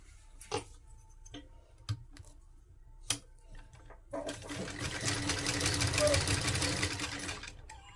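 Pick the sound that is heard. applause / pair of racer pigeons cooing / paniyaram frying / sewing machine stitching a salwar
sewing machine stitching a salwar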